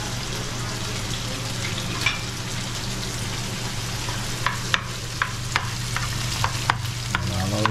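Ingredients for dhal fry in a pan with a steady crackling sizzle over a low hum. Scattered sharp ticks and taps come from stirring.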